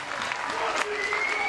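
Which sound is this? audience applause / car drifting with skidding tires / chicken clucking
audience applause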